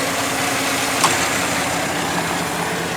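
Chevy Silverado engine idling after a cooling system top-off, a steady, even low rumble and hum throughout with a faint brief tick, no voices.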